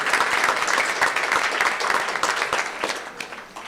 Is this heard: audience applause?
yes